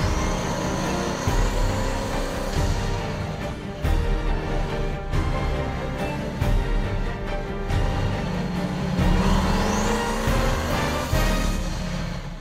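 A Hennessey Venom GT accelerates hard from inside the cabin, a loud, sustained engine roar with rising pitch sweeps broken by brief gear-change dips.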